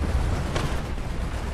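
A deep, booming cannon blast from a 3-inch gun carrier in the video game War Thunder rumbles through the clip, low and heavy, with a rolling tail of explosion noise and no talking.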